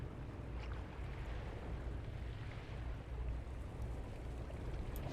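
Ocean waves wash steadily in No Man's Sky, a constant low rushing surf with wind-like hiss and no distinct breaks, holding at an even moderate level throughout.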